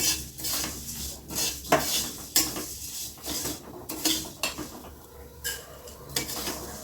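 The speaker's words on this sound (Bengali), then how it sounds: "চিড়েটা ভাজা হয়ে গেছে। এখন আমি একটা পাত্রে নামিয়ে নেব।" Fried poha scooped from a pan into a bowl, a series of sharp metal scrapes and clanks of spoon on pan at irregular intervals, with a faint lingering sizzle.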